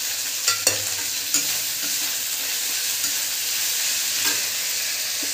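Chopped tomato frying in garlic-ginger spice paste while a spoon stirs and scrapes the pan, a continuous close sizzle punctuated by several sharp clacks and scrapes.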